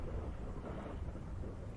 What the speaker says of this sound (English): It's really hard to see with that rain effect.